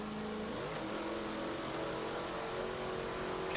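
A car engine in a racing video game revs up with a rising pitch sweep, then holds a steady moderate drone over a constant noisy background, fairly faint and with no talking.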